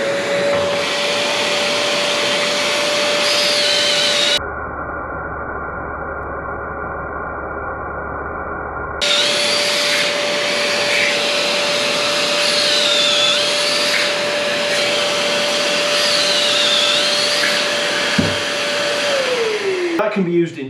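A V-Tuf VTM1 Mini M-Class dust extractor connected through a power tool adapter runs with a loud, steady suction roar and a constant whine, cutting out briefly midway before resuming and winding down at the end.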